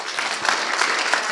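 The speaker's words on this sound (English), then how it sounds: "you give him a round of applause for his effort" Audience applause at a Caribbean research meeting, many hands clapping together in a dense, steady burst, close and fairly loud for a short stretch.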